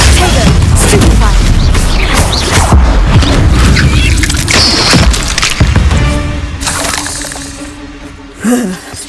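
Confringo fire spells blast loudly in Hogwarts Legacy, a run of booming thuds and crashes over busy game combat noise, with a louder burst near the end.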